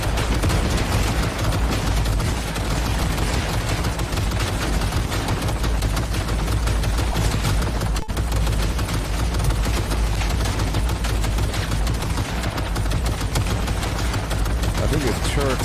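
Turrets firing nonstop in Cyberpunk 2077, a dense, unbroken rattle of rapid gunfire with booms mixed in, loud and sustained throughout.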